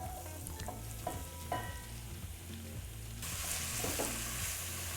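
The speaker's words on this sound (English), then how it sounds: "Once that's heated up, we're just gonna throw in the celery and the leeks." Celery and leeks sizzle steadily in hot oil in a pan, a close, continuous frying hiss with occasional stirring clatter, growing louder and brighter toward the end.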